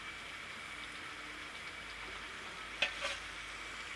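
Veggie burger patties frying in oil in a home kitchen, a soft, steady sizzle that runs throughout, with a couple of light utensil clinks near the end.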